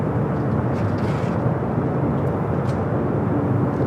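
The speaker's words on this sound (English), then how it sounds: "Delta A321 Neo up and next for takeoff." A Delta Airbus A321neo taking off at Los Angeles airport, heard as a steady, loud, broadband jet roar that holds level throughout at a moderate distance, with no voices.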